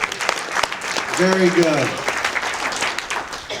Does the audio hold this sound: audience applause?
yes